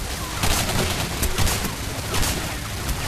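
Rapid gunfire from the video game Singularity crackles continuously in dense, overlapping bursts, loud and close with no pause.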